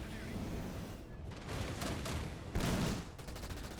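A Hunter unit firing on a Warthog in Halo Wars 2, dense, rumbling bursts of heavy gunfire and explosions that stay loud throughout and peak as a blast hits near the end.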